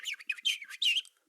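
A voice imitating a bird's chirping in a children's storytelling performance, a quick run of bright, high whistled tweets in short bursts, close and clear, with no other talk.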